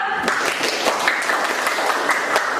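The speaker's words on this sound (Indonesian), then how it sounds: "Silakan kita kasih aplaus buat kelompok 2." Classroom applause from students for a presenting group, a dense wash of hand claps filling the room steadily without a break.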